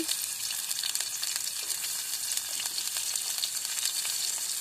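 Chopped onion fries in a pan of hot oil for a chicken liver curry, giving a dense, steady close-up sizzle and crackle that continues without pause and with no voices.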